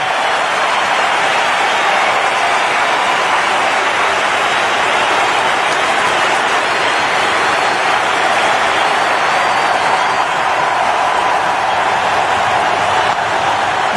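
A standing crowd at the Sydney Cricket Ground cheers and applauds during a cricket final, a dense, steady roar of clapping and voices that fills the whole stretch without pause.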